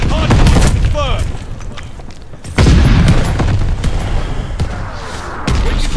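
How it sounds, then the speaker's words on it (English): Mortar barrage explosions in the shooter game Call of Duty: Vanguard, heavy booms and bursts of gunfire rolling across the match, with a loud impact midway and steady battle noise under game voices. "Allies calling a mortar barrage."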